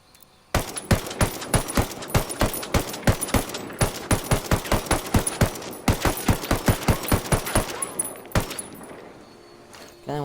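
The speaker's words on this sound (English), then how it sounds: "Then I will shoot my AR without the suppressor." An unsuppressed AR rifle fires in rapid bursts in Ghost Recon, loud sharp cracks in quick strings with brief pauses and a short trailing echo after the final shots.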